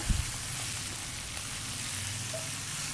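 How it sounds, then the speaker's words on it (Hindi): Mutton simmering down in a thick masala for Punjabi namkeen gosht, giving a steady soft sizzle throughout with a few faint scrapes near the start. "बहुत अच्छी तरह से भुन गया गोश्त इस मसाले के अंदर।"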